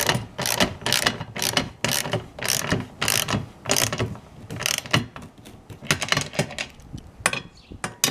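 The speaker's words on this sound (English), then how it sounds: "I do find the ratchet very useful in this particular installation." Ratchet tightening nylock nuts and bolts while assembling a Gorilla Carts GCG-4 poly dump cart, rapid close clicking strokes in quick uneven bursts, loud and alone without speech.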